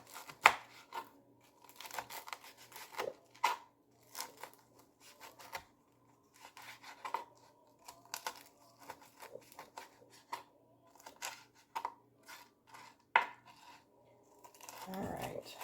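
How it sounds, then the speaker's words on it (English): A knife roughly chops bacon on a cutting board, giving irregular quiet taps and knocks spaced through the stretch, with faint rustling and a soft voice in places. "I'm going to do a rough chop on the bacon right quick"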